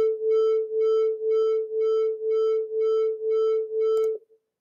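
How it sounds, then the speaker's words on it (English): Two overlapping tones sound together in a physics lecture on air columns, creating a steady hum that pulses in loudness about twice per second as evenly spaced beats for roughly four seconds, then stops abruptly. "you can actually hear the beat."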